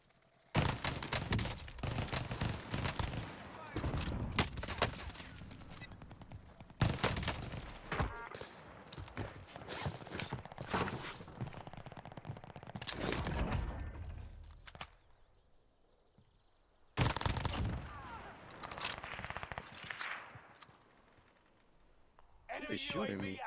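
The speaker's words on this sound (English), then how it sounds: "He's shooting me." Bursts of gunfire in Call of Duty Warzone rattle in clusters separated by quieter gaps, with players talking over the shooting.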